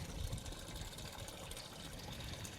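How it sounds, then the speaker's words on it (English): In a backyard aquaponics system, water siphons through a pipe as a faint, continuous trickle and gurgle, close by and without voices. "It has already started siphoning."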